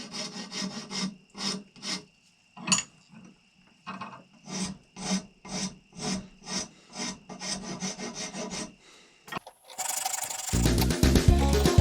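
A 4-in-1 rasp files saw marks off a wooden plug for a powder horn in a quick run of about twenty rhythmic, close-up scraping strokes, then ends in a burst of louder noise.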